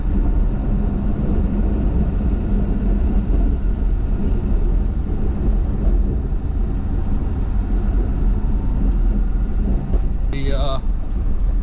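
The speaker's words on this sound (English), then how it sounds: "The whole truck just digs in." A truck drives over a solid sheet of ice, its engine giving a steady, loud, continuous rumble and grinding road noise throughout, with a brief high squeak near the end.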